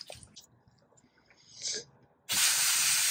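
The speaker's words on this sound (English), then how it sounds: "And those are the misters. You can see it's just a very fine mist." Plant misters over abutilon cuttings cut in with a sudden, loud, steady hiss of fine spray after a quiet stretch with a short earlier puff.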